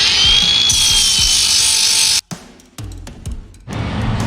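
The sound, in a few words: angle grinder with flap disc sanding metal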